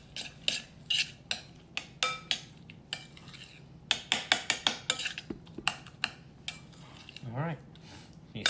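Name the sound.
mixing ingredients together in a bowl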